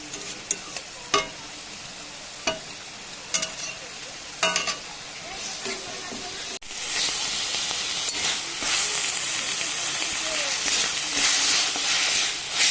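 Ground coffee-leaf paste frying in a pan as its water cooks off, a steady sizzle with a few sharp stirring scrapes early on, then a louder, fuller hiss of steam and spitting oil toward the end.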